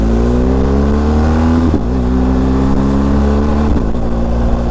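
A BMW GS 1250 Exclusive adventure motorcycle cruising steadily on cruise control, its engine holding a loud, even drone with a couple of brief dips in pitch, mixed with road and wind noise.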